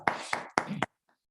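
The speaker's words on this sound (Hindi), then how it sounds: "एक जोरदार तालियां हो जाए टाइगर के लिए।" Applause for a guest on an online call: a handful of clear, close hand claps in quick succession, slightly compressed as through a call connection, ending abruptly in near silence.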